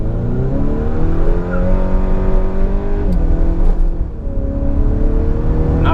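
A Honda Accord 2.0T with a Stage 3 tune pulls hard in second gear with traction control off, the engine rising loudly and steadily in pitch from inside the car, briefly dipping at about four seconds before climbing again.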